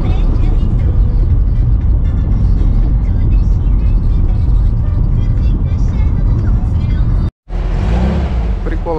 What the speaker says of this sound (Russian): Прикол, автобус.